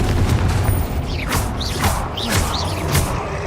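Confringo fire spells from Hogwarts Legacy burst repeatedly in a dense, noisy battle. Several swooping, whooshing blasts sound over a constant rumble of combat.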